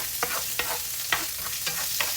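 Chopped garlic sautés over medium heat in hot grease, a steady close sizzle broken by about half a dozen evenly spaced scrapes of a stirring utensil. Nobody speaks.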